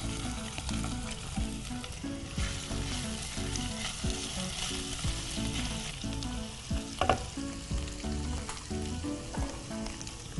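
Crushed ginger-garlic paste fries in hot oil in a pan, giving a steady, busy sizzle with crackling bursts and some stirring clatter throughout. No one speaks.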